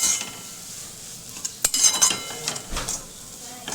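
Kachori filling being stirred and roasted in a pan on the gas stove, with a spoon scraping and clinking against the metal in quick irregular strokes over a soft sizzle, close and without talk.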